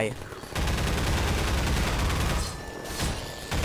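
Sustained rapid gunfire in Half-Life 2: Update, dense and loud, with bursts rolling continuously and a brief lull near the end before firing resumes.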